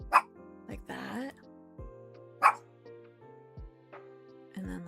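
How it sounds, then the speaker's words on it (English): A small dog barks and yips several times indoors, sharp bursts scattered among softer whimpers, with a person speaking between the barks. "do you hear my stupid, annoying dog?"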